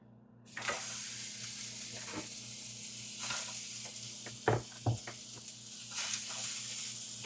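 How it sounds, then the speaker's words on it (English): Onion frying in a hot pan on a high flame for a vegan breakfast, a sudden steady sizzle with sharp clicks and knocks of stirring scattered through it. "I'm gonna burn the onion."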